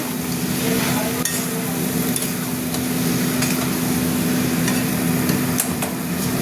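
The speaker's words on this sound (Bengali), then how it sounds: "আর একটু নেড়ে দিই, নেড়ে জল দিয়ে দেবো।" A spoon scrapes and stirs banana flower curry in a hot pan, producing soft repeated knocks and scraping over a continuous sizzle and faint background hum.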